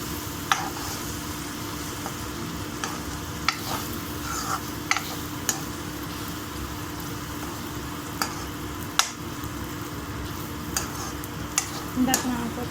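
Beaten egg for egg puttu cooking in a pan, a low steady sizzle with sharp intermittent clinks and scrapes of a utensil stirring against the pan.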